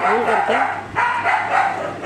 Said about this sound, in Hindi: तो डॉगी कुछ ज़्यादा ही भौंक रहे हैं